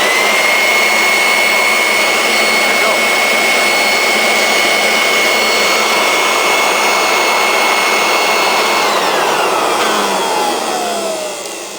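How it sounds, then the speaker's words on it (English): A Groundskeeper Plus model 2560 electric leaf blower with an 8.5 amp motor runs close by with a loud, steady whooshing roar and a high whine, easing down slightly at the very end. "On this blower, you have two speeds."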